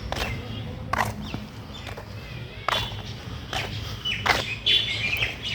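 Birds chirp and call intermittently outdoors at a moderate distance, over a low background rumble with a few soft thumps.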